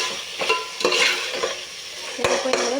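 A spoon stirs chopped tomatoes and fenugreek leaves in a pan, with soft scraping strokes and a light sizzle of frying underneath, up close and steady with no talking.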